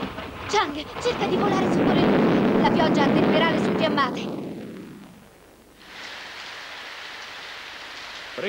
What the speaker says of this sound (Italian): questa pioggia così abbondante